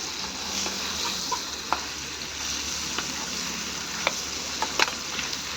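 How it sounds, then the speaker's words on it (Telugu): Brinjal curry sizzling and frying in a pan with chillies and chilli powder added, a steady soft hiss with occasional faint clinks and stirring sounds, no talking. "చూడండి ఇంకా మిరపకాయ పడేసి ఇంకా కారం పడేయాలి"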